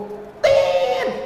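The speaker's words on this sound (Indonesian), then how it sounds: "Itu bunyi sensornya." A single steady censor beep about half a second long cuts in abruptly over a man's speech to cover a name, loud and buzzy with a faint voice before and under it.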